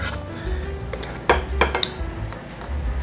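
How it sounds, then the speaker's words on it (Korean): Shrimp cream pasta is transferred onto a plate with metal utensils, sharp clinks and scrapes against the dish standing out over a low kitchen background hum. "이제 접시에 담아볼게요"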